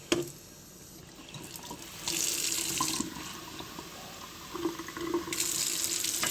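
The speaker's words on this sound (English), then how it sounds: "That's water." Water from a tap runs into a sink in steady bursts, starting and stopping several times with a hissing splash, fairly close and alone.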